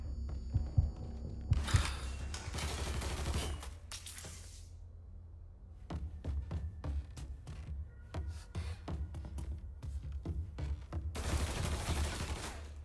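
Gunfire in Mafia III, with bursts of rapid automatic fire in clusters, then a run of separate sharp shots spaced across several seconds, followed by another dense burst, all fairly loud and close.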